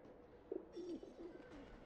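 Pigeons coo in a cage-like coop in the game Alice: Madness Returns, Houndsditch Home level; several soft, rolling coos follow one another over faint background ambience.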